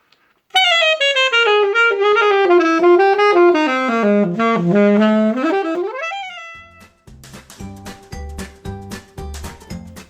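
A saxophone plays a long sweeping run, falling to low notes and rising again to high ones, loud and close, before a rhythmic backing with percussion enters near the end.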